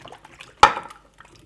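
A single wet, soft splat as a lemony potato mixture is tipped into a baking dish, with a brief clatter and then near quiet.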